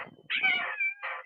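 A pet cat meows several times up close, a drawn-out wavering cry followed by a shorter call, with some low rustling before it.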